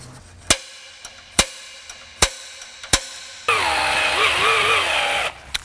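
Cordless drill with a weak, nearly dead battery: several sharp isolated clicks and knocks, then one strained whirring run of a couple of seconds, wavering in pitch before cutting out.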